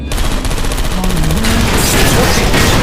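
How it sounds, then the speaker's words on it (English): Automated turrets in the game Portal Stories: Mel firing on server racks, a loud, dense stream of rapid gunfire that runs unbroken throughout, with a brief electronic tone mixed in. "Turrets are shooting the servers."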